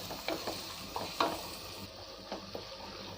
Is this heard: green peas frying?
yes